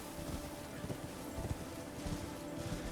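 Horse hooves clip-clop at a steady gallop rhythm while riding on horseback in the Elden Ring video game, moderately close with a low rumbling backdrop and no talk.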